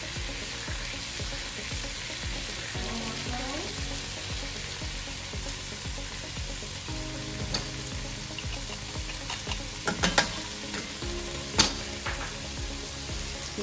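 Garlic squeezed into a hot pan fries with a steady, moderate sizzle. Light scraping and tapping sounds come in toward the end, and no one talks over it.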